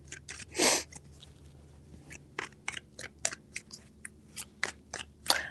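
Tarot cards being shuffled, three separate bursts of crisp papery riffling and slapping, close and fairly quiet in a still room, with short pauses between the shuffles.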